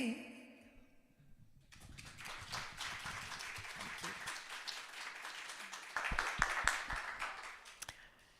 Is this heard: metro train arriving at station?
no